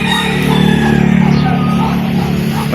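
A street-breed pumpkin hatch rooster crows close by in one loud, drawn-out call that fills the short moment.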